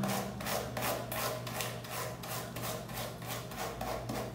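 A hairbrush is dragged repeatedly through tangled hair after a day at the beach, starting at the ends. The brushing comes as a quiet rhythmic series of rasping strokes, about a dozen, close and alone with no talk.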